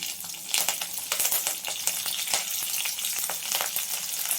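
Crushed garlic, a dried red chili, green chilies and curry leaves frying in a pan with a crisp, crackling sizzle and occasional sharp pops and stirring clinks, no voices over it.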